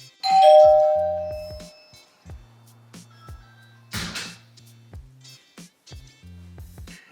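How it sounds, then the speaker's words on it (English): A Ring Battery Doorbell chime rings out loud and clear as the button is pressed, followed by softer electronic tones, clicks and a short rustle over several seconds, no talking. "That came up about 3 or 4 seconds after I had pressed the doorbell."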